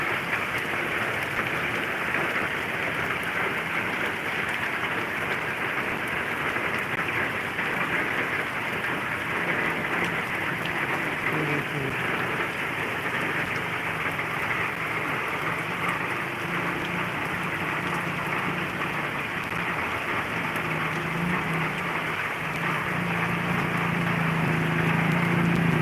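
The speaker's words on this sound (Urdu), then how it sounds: "خوبصورت انداز میں بارش ہو رہی ہے جی" Steady rain falling outdoors, a dense continuous hiss and patter of drops on surfaces, even and unbroken throughout, with no talking.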